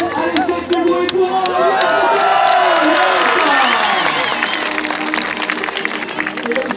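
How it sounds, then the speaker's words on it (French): A large outdoor crowd in Cahors cheers and roars at a bike and motorbike stunt show, a loud continuous swell of voices with whistles and shouts, while an announcer's amplified voice sweeps over the din. "faites du bruit pour"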